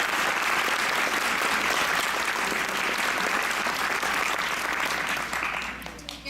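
Sustained audience applause for four young women at a Miss Gibbon pageant coronation, dense and steady clapping from a large crowd that holds for about five seconds before thinning out near the end.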